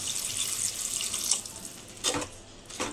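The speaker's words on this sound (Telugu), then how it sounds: "ఇప్పుడు ముక్కలు ఉడకడానికి అయితే కొంచెం వాటర్ అయితే పోసుకుందాం." Water is poured into a cooking pot of sambar vegetables, a quiet, steady splashing rush with a couple of brief louder gushes near the end.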